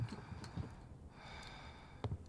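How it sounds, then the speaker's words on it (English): Eerie breathing in a ghost-hunting video game set in 1958 comes as faint, soft gasps and snorts at a slow uneven pace over a quiet hum. "who's in here breathing"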